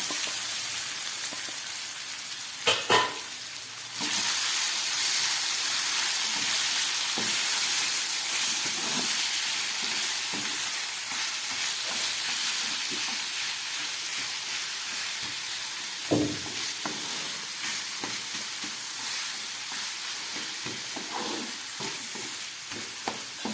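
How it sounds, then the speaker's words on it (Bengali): Chicken mince sizzles and hisses steadily while it is stir-fried in a kadai. A spatula scrapes and knocks against the pan at irregular intervals throughout, all close and continuous with no talk. "এবার আমি এই মেখে রাখা চিকেন কিমাটাকে ভালো করে কড়ার মধ্যে দিয়ে কষিয়ে নেব"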